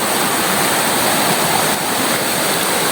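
A hillside stream in Penang Hills, fed from a water catchment area, flows downhill in a loud continuous rushing hiss, close by and steady throughout with no voices.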